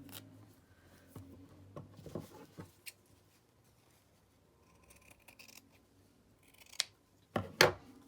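Scissors snip fabric and paper in a quiet craft session making slow-stitch fabric tabs, with scattered soft cuts and a few sharper, louder snips near the end.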